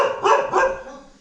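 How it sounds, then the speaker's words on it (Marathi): A dog kept at a village house barks twice in quick succession, loud and close, the barks trailing into a brief fading whine. "कुत्रा आहे वाटतं."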